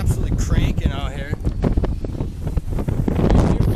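Strong wind during a tornado-producing storm, rear-flank downdraft gusts, buffets the microphone in loud, rumbling gusts, with a voice talking underneath.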